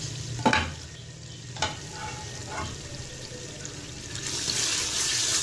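Masala fried until cooked down for cabbage curry sizzles softly in a pan, with a few sharp scrape strokes of stirring and a louder hiss building near the end, no voices.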